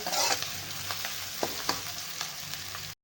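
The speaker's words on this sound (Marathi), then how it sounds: "आता कांदा आपण छान भाजून घेणार आहे" Onion frying in a pan for a rustic village-style pulse curry, a continuous close sizzle broken by several sharp spatula scrapes and taps.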